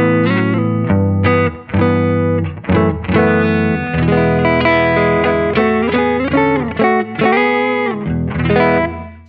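An electric guitar through a Flower Pedals Dahlia dual analog stereo delay pedal and plugin reverb plays a melodic line of sustained, overlapping notes, smeared with echoing repeats and a wash of reverb, loud and up front.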